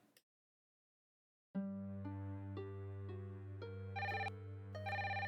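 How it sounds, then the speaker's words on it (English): In the video game Spycraft: The Great Game, an electronic telephone rings with a steady, repeating tone that steps upward in pitch, alone and fairly quiet after a brief silence. "Oh, we're getting a phone call."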